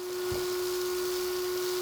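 A Makita 36V LXT cordless 4-gallon vacuum cleaner runs at top speed 5, giving a steady, unbroken motor whine over airy hiss, loud and close, with no talk.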